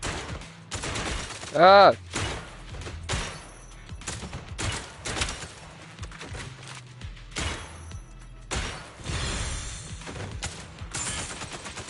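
Rapid bursts of automatic sniper rifle fire in the video game ZZZ crack out in clustered volleys among other combat effects, with a brief shout partway through.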